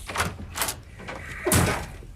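A door is shut with a solid thud near the middle of a short stretch, close and fairly loud, surrounded by quieter rustling and background sound.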